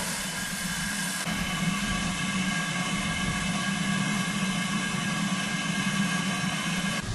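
Steam locomotive 76079 firing up at Grosmont station on a heritage railway, giving a steady, loud broadband hiss and roar that holds evenly throughout with no voices.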